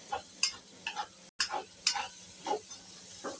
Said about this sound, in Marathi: आता हा कांदा या वाटणामध्ये मी चांगला लालसर असा परतवून घेणार आहे.